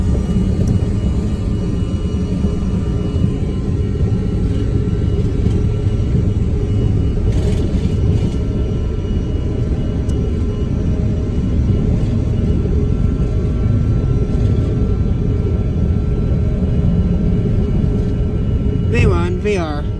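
Regional jet engines roar steadily through a takeoff run down the runway, a loud constant cabin rumble and whir throughout, with brief talk near the end.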